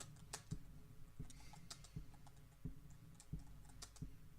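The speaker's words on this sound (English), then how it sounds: "I'm typing in the error" Someone types on a computer keyboard in a quiet room, with soft, irregular keystrokes and a few sharper clacks spaced through it. No voices are heard.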